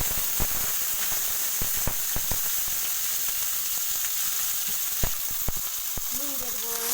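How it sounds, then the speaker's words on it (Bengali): Okra (bhindi) frying lightly in mustard oil with green chilies in a pan, a continuous close sizzle broken by sharp pops and spatters, with a brief stirring scrape near the end. "এর ভেড়িগুলো একটু ভাজা করে দিব হালকা করে"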